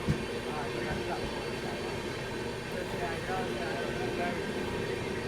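Steady, loud rumbling roar of a Tirupati-Nizamabad Rayalaseema Express train running close by, with continuous broadband rolling noise throughout and voices talking over it.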